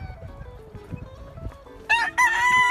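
A two-year-old Warhorse brown red gamecock rooster crows loudly and close by near the end, after quiet rustling and low clucking sounds.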